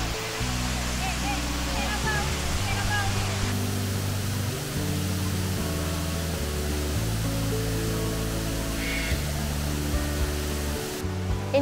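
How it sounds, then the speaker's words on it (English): A huge man-made indoor waterfall in the Jurong Bird Park aviary roars as a steady, dense wash of falling water, loud and continuous, with melodic background music layered over it. "And this one is also another man-made waterfall."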